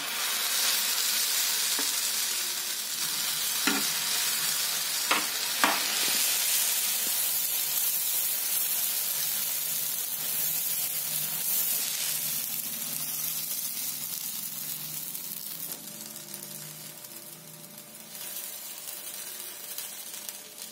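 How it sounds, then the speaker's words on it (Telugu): Raw banana dosa batter hisses and sizzles steadily on a hot, lightly oiled griddle, close and continuous, with a few sharp crackles early on and a gentle fade toward the end. "లైట్గా ఆయిల్ వేసి అట్టు వేస్తున్నాను."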